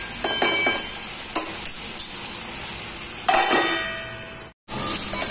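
Pointed gourd (parwal) pieces fry and sizzle steadily in a pan while being stirred, with a few metallic clinks from the spatula and a brief drop to silence near the end.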